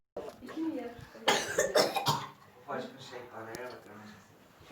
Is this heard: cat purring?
no